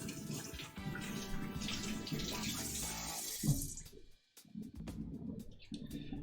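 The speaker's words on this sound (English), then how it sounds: "I'm gonna wash my hands" Hands are washed under a running kitchen tap, a soft continuous splash of water that briefly dips and then resumes, quiet and close with no talking.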